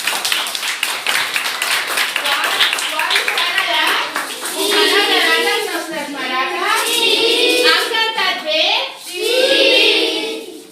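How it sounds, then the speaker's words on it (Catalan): Children and their grandparents clap loudly at a Santa Cecília celebration. The dense, steady clapping gives way to excited children's voices calling out. "Un aplaudiment ben fort."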